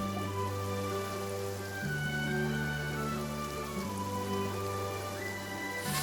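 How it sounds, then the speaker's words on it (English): Rain pours steadily over a scene in the video game Genshin Impact on PS5, an even hiss of falling drops running beneath sustained musical tones with no voices. "It's raining again?"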